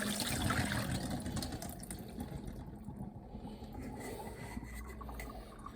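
Pickle brine dumped fast through a strainer, a loud continuous rush of pouring liquid that lasts throughout, close up with no talk.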